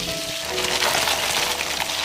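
Spices, scallion pieces, ginger slices and hotpot base sizzle and fry in hot oil, a steady dense crackle that holds close and loud throughout.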